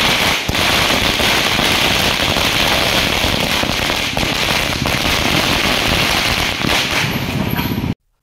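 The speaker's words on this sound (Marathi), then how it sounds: "महानगरपालिकेच्या प्रवेशद्वारावर फटाक्यांची लढ देखील लावण्यात आली होती" A string of firecrackers goes off at the entrance of a municipal corporation building, a loud, dense run of rapid crackling bangs that continues for several seconds and then cuts off abruptly.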